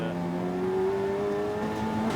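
An Audi TT race car with a TDI engine, front-wheel drive and a big rear wing, drones past at Snetterton in a 750MC Roadsports race, a sustained buzzing engine note that shifts pitch as it runs.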